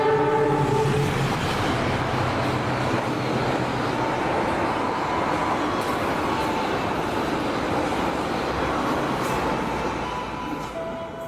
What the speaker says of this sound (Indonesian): kereta api Jayabaya baru saja tiba di stasiun Jatibarang